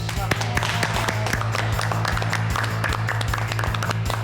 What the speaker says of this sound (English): So a round of applause for you both.